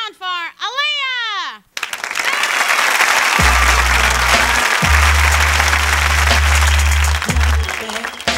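Audience applause and cheering for a singer's televised performance on a children's variety show, loud and sustained through most of the stretch, starting after a brief burst of high-pitched vocal sound and layered with music-like low tones.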